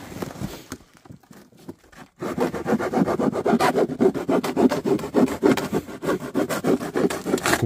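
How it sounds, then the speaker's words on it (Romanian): A blade saws rhythmically through a cardboard box, a quiet pause first and then a run of quick, scratchy rasping strokes, close and fairly loud, with no talk over it. "Taie cutia."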